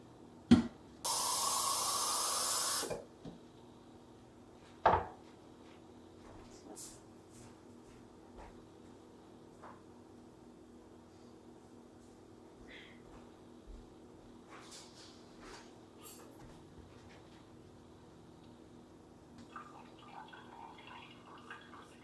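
Potted houseplants being watered indoors: a short hissing spray burst, then scattered faint drips and trickles against a quiet room.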